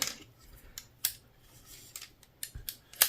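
Small metal clicks and scrapes as an Allen key works on a PepperBall VKS launcher's ASA, a handful of sharp, sparse ticks scattered over quiet, close and fairly faint.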